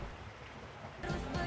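Rain falls steadily during the rainy season as a dense, even hiss that swells louder partway through, with no voices.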